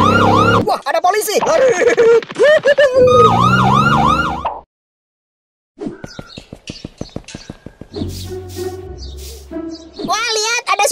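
A police car siren in an animated cartoon wails in rising and falling sweeps, loud and close, broken by a short silence, with cartoon voices talking around it.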